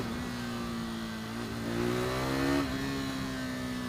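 A KTM RC390 motorcycle's exhaust pipe rises in pitch as the bike accelerates, a steady close engine note swelling briefly before settling, with no talking.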